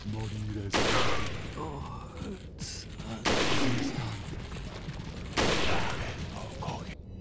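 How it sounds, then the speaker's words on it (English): A shotgun in the Resident Evil 4 video game fires three loud, heavy blasts spaced about two seconds apart. Each blast rings out over a steady game backdrop, with speech mixed in. "Shotgun time, baby."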